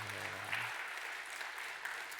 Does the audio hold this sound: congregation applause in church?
yes